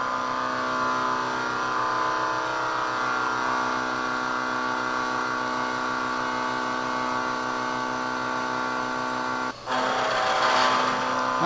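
Steady mechanical drone of a milling machine's 1.5-inch cutter taking a heavy cut into a metal block, a dense harmonic whine held evenly for about ten seconds, with a brief break near the end before it resumes.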